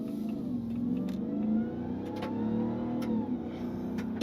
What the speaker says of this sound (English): this supercharger is a little bit smaller, yet still makes a wonderful noise